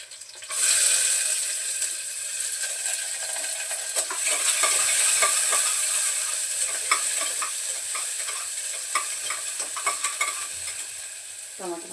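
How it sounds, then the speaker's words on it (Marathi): Onion and tomato sauté in oil with crushed garlic inside a pressure cooker, giving a steady close sizzle with repeated scraping stirs and clinks that grow busier toward the end. "परतून घेते कांदा टमाटा परतायला"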